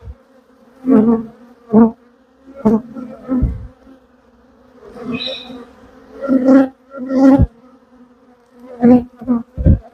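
Honey bees fly around a nucleus colony hive, with close buzzing passes that swell and fade in short bursts over a faint background hum.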